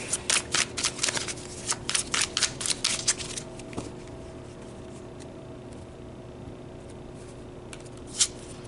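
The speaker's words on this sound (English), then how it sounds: "we'll even pull you a few extra cards" A deck of tarot cards is shuffled up close in a quick burst of crisp, rhythmic riffling flicks for a few seconds, followed by quiet and one final soft tap.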